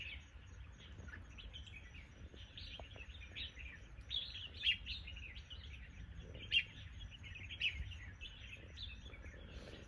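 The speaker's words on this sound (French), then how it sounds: "Vous entendez les oiseaux?" Birds sing faintly in the countryside of Tai Lam, Hong Kong, with scattered high chirps and trills over a soft low outdoor rumble.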